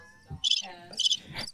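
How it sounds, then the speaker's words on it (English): A cricket chirping indoors behind a conversation: three short, bright trilling bursts spaced about half a second apart, fairly close, with faint low murmurs between them. "There's a cricket in the background while you're saying this."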